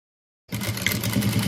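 A sewing machine starts up after a short silence and runs steadily, stitching velcro tape onto fabric with a continuous close mechanical hum.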